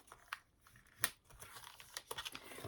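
A scrapbook album page of paper folded down by hand, giving soft, faint crinkles and a few sharper creasing crackles close by, with no voices.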